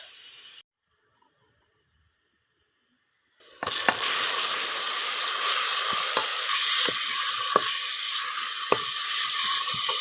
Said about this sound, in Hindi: अब हम डालेंगे ये कूटा हुआ टमाटर